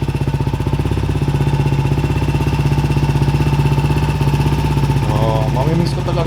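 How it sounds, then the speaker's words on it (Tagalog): A Honda PCX 160 scooter fitted with a JBT V3 exhaust revs steadily up close, a loud, throbbing engine drone that holds through the whole stretch with no talking over it. "Sobrang solid na solid yung tunog ng JBT talaga."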